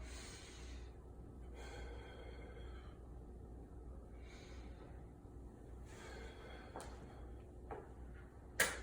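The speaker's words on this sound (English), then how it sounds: "Nice deep breath." Slow, deep breaths drawn in and out during a boxing workout cooldown, repeated in a calm rhythm over a low background hum, fairly faint and close, with no talking.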